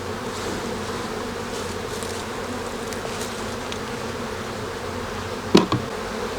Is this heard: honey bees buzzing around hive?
yes